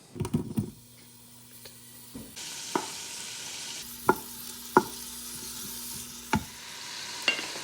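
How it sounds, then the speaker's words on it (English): Andouille sausage browns in a pan over a fireside cooking setup, a low steady sizzle punctuated by several sharp clicks and taps of a utensil at irregular intervals, with no talking. "So first step is to brown the andouille sausage."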